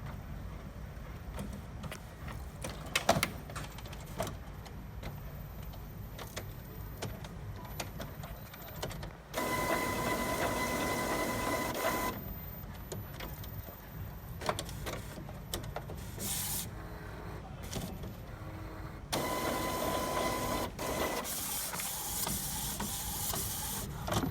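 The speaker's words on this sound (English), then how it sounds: "The scanner errors show while scanning." An Epson WorkForce WF-7710 printer-scanner runs while scanning, a close mechanical whir with long louder stretches of motor drive alternating with quieter pauses and faint clicks, no talking.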